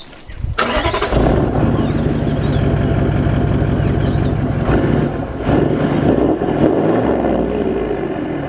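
A Toyota 79 Series Landcruiser engine fitted with a chip and a 3.5-inch mandrel bent exhaust starts up and settles into a loud, deep, steady idle. A short burst of extra revving comes near the middle, and nobody speaks.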